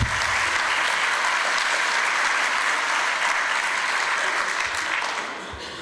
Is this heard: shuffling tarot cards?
no